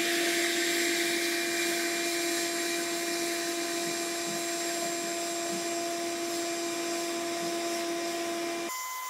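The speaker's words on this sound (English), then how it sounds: "I'm going to take a shop vac and just vacuum out these vents" A shop vac runs steadily, vacuuming out the vents of a laser cutter, a constant loud whine with strong tonal hum, cutting off abruptly near the end.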